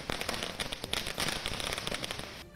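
Fireworks crackle outside a cinema in Pune where people celebrate the release of Pathaan: rapid, irregular bursts of popping firecrackers, fairly distant and low in level, continuing without pause.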